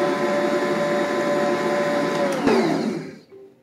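An electric mixer whirs steadily while beating coconut cake batter, its motor humming loudly and evenly before winding down and stopping near the end.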